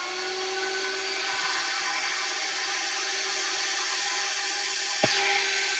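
A VPI HW 16.5 record cleaning machine vacuums a rinsed, dirty record with a steady, loud motor whine and hum that runs unbroken throughout, with a single sharp click near the end.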